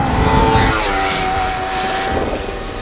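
Kawasaki Z250 motorcycle engine revving hard out of a left-right chicane on a race track, a loud, close, rising whine that holds steady and then eases slightly near the end, heard alone.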